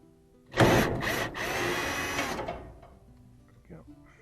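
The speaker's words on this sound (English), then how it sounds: "We got a DeWalt angle tool to get into that screw there" A DeWalt right-angle drill drives a screw on a 1998 Whirlpool dryer, giving one short buzzing whir of about two seconds with a couple of quick stutters, close by, before a voice speaks briefly.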